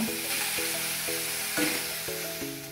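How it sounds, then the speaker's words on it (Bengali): Chopped spring onion vegetables fry with salt in a pan, giving a steady close sizzle broken by regular scraping stir strokes and clinks, with no talking. "এদিকে আমার সবজিটা ভাজা হচ্ছে"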